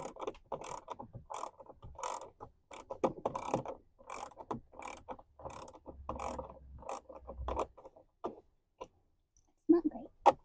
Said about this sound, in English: remove these 7mm hex head bolts. So I have this cute little ratchet.